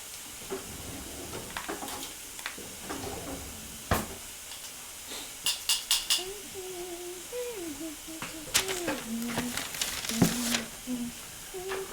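Meatballs sizzle in ghee butter in a pan, a steady soft crackling frying hiss with occasional louder pops and pan clatter, heard close and moderately loud.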